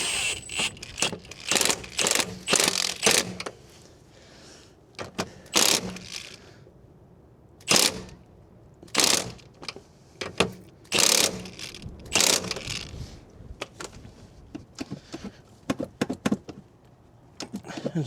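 A ratcheting wrench works a front stabilizer link nut on a 2016 Mazda 3 2.0, with bursts of rapid clicking ratchet strokes separated by short pauses, close and fairly loud.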